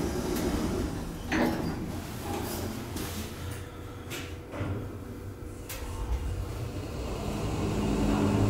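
Doors of a brand-new 2014 Schindler machine-room-less elevator at a railway station in Vantaa, Finland, sliding shut with a low steady rumble and faint clunks over a few seconds.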